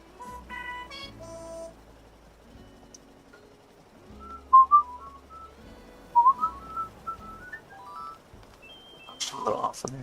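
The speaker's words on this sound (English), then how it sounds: "I need to practice my whistling a little bit." A person whistles a melodic tune in short rising and falling phrases, a little unsteady, with game music and beeps in the background of an Animal Crossing: New Horizons session.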